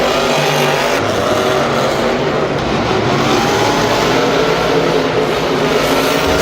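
Monster trucks racing head to head at an arena event, their engines roaring and revving loudly and continuously close by, with no talk over the sound.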